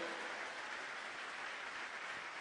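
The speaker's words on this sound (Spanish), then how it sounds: "¡Dele fuerte palmas al Señor!" A church congregation claps hands together in worship, a faint, dense, continuous wash of many hands heard from a distance, with no voices standing out.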